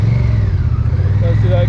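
A Honda Rebel 1100 motorcycle engine pulls through its low rev range, a steady deep rumble close up with a faint higher whine near the end.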